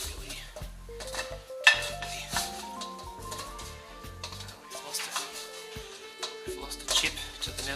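Steaks and chips flipped in a pan, heard as clinks and scrapes of utensil on metal with a soft sizzle underneath, against a backdrop of music.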